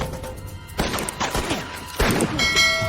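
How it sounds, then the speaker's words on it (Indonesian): A film shootout erupts in loud bursts of gunfire, with heavy cracks and crashing impacts in rapid, irregular succession and no voices. "Baku tembak pun tidak dapat dihindari."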